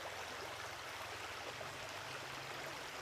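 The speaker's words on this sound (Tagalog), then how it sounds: "Yung sound pa lang ng tubig, di ba, na flowing, very relaxing na eh." River water flows steadily at a riverside in Cabangan, Zambales, a continuous broadband rush close by and alone, with no pauses or voices.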